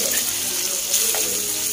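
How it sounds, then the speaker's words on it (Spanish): Liver fries in a pan beside chopped onion and guajillo sauce, a close, steady sizzle and crackle with faint clinks over a short stretch, with no voices. "Pues por este lado estoy friendo un higadito, está bien rico."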